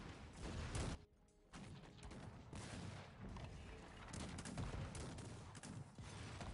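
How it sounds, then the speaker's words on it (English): Mortar shells land in a Cossacks 3 battle, a continuous loud barrage of booms and crackling gunfire layered with dense battlefield noise. "I can see some shelling coming in. This doesn't look like cannons. I think Adam has mortars."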